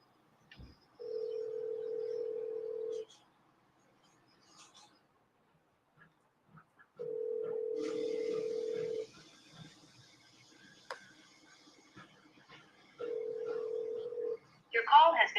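Outgoing phone call ringback tone, three long steady rings spaced several seconds apart with short silent gaps, clear and close, before a voicemail message starts.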